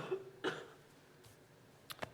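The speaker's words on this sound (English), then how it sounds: "Speaking of cough, excuse me." A few short, muffled coughs and a throat-clearing sound, quiet and close, spaced out with brief silences between them.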